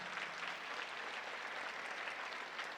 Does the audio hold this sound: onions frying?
no